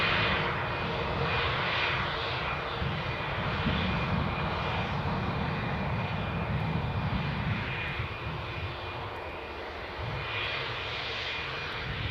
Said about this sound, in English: We've got an incoming flight from Exeter. Next action, here at Newcastle.